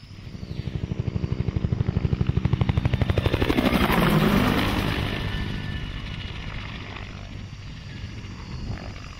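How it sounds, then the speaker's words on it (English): Rapid rhythmic rotor chopping of a helicopter grows louder as it passes close overhead, then gradually recedes into a steady distant drone. "along with their supporting helicopter gunships"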